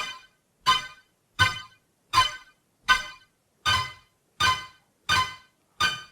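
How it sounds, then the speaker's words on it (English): Synthesizer notes with chorus effect, the amount changed by a macro knob in an EDM production setup: nine evenly spaced bright plucked hits, loud and alone with silence between. "And now I can control how much chorus we have right here with this knob here."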